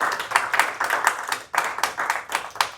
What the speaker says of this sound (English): let's give a huge round of applause for these amazing folks